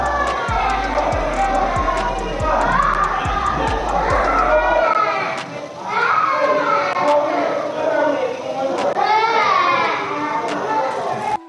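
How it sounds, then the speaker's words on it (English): A child cries in terror over a livestream's audio after the picture cut to black during a gun incident at a house, with shouting crowd-like voices and sobbing wails running continuously and loudly, overlapping throughout. "The sound of their child crying in terror painted a heartbreaking picture"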